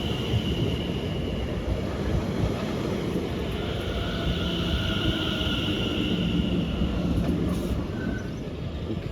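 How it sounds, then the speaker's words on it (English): Trains approaching on a British main line, a Pendolino on the fast line among them, heard as a steady broadband rumble with a faint high wheel whine, distant and continuous with no voices. "in the distance we have 2 trains approaching. We have a Pendolino to London Euston on the fast line."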